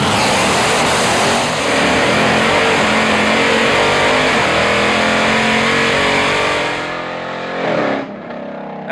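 A 1968 Dodge Charger fitted with a 707 hp Hellcat engine launches down a drag strip, its loud, close engine roaring continuously as it climbs quickly through the gears, then fading abruptly near the end.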